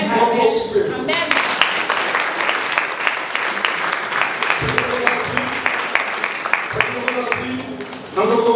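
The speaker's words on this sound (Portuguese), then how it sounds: "Um aplauso para ele." A church congregation applauds a preacher, steady dense clapping filling most of the stretch, loud and close, with brief voices breaking through near the start and end.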